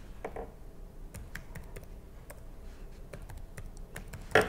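Keys clatter on a computer keyboard in a steady, fairly quiet run of close taps, ending with a sharper keystroke, with no voice over it.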